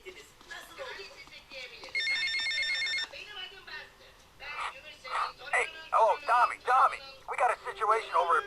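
A telephone rings in the GTA Vice City video game, a bright electronic trill lasting about a second, heard among game dialogue and voices that continue before and after it.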